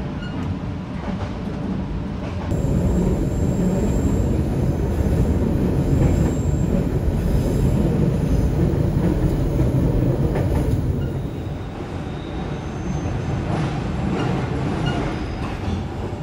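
Steady rumble and clatter of the Kutojaya Selatan train rolling along rails in Indonesia, with a high whine joining partway through, continuous and close throughout.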